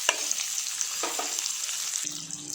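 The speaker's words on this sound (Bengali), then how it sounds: "পেঁয়াজ কুচি আর লঙ্কা চেরাটা কয়েক সেকেন্ড নাড়াচাড়া করে নিয়ে ভেজে নিচ্ছি।" Chopped onion and slit green chillies sizzle in hot oil in a pan, a bright continuous hiss broken by a few stirring scrapes and clinks, close by and with no one talking.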